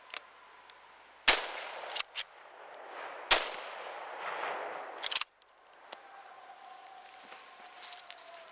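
Sharp gunshots ring out at an outdoor shooting competition, several loud cracks spaced irregularly with ringing decay between them, followed by fainter clinks and a distant tone.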